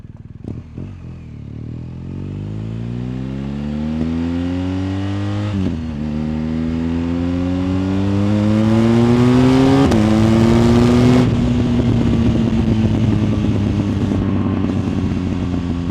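A BMW GS motorcycle with a loud aftermarket Akrapovič exhaust accelerates through rising gears, each pull climbing in pitch with gurgling shifts, close and powerful.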